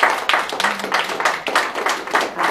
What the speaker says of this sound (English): let's give Michael a nice round of applause for coming out